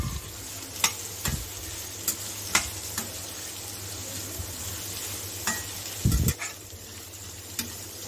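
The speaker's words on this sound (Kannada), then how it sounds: "ಸ್ಟೌವ್ ಫ್ಲೇಮ್ನ ಸ್ವಲ್ಪ ಹೈ ಇಟ್ಕೊಂಡು ಚೆನ್ನಾಗಿ ಈರುಳ್ಳಿನ ಫ್ರೈ ಮಾಡಿ ತಗೊಳ್ಳಿ." Onions fry in hot oil in a pan over a high flame, a continuous close sizzle broken by several sharp ticks and knocks of a spoon stirring, with one longer scraping clatter partway through.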